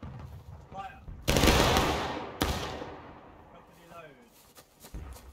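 A company of players fires a musket volley in the Civil War game War of Rights: one big rolling crash of many near-simultaneous shots that decays over about a second, followed by a second sharp report and later faint voices and scattered noises.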